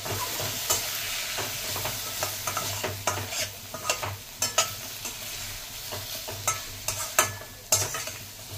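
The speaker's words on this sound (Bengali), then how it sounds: "তো আরেকটু নাড়াচাড়া করতে করতে যখন সম্পূর্ণ মশলা কষে যাবে" Spice masala sizzling in oil as it is stirred for khoira fish tel jhal, with a steady fry hiss broken by regular scraping strokes of the spoon in the pan, near and clear with no talk.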